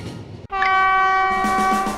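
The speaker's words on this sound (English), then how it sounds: "With the booming train whistle" A booming train whistle sounds loud and close from a mountain railway train serving remote villages, starting abruptly and holding a sustained, rich tone as a second blast layers in toward the end.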